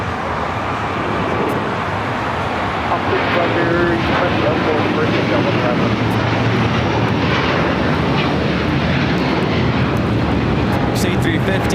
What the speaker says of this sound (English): Qatar 742 is now rolling on 25 right.